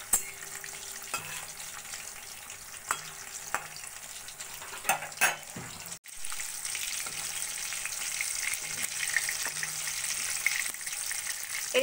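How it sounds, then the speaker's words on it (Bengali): Green chicken pakoras deep-fry in oil over a low flame, a quiet steady bubbling sizzle punctuated by occasional clinks and taps of a utensil, growing a little fuller later on. "এবার আমি একদম লো ফ্লেমে পকোড়াগুলো সোনালি করে ভেজে নেব।"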